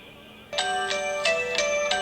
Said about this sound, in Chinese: 来电了。